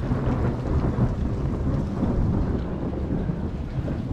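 Thunder rolls low and heavy over a lake during a storm while rain patters steadily on the surface, a continuous close rumble with no voices.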